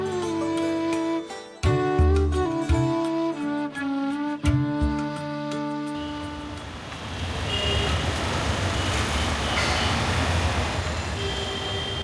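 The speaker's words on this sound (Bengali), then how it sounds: "এবারে আমাদের যাত্রার বাহন হিসেবে থাকছে ঢাকা থেকে কক্সবাজারগামী পর্যটন এক্সপ্রেস ট্রেন" Parjatak Express train at Kamalapur railway station in Dhaka: a tonal horn or drone with clunks gives way to a loud, steady rumbling roar of the train moving close by, with no voices.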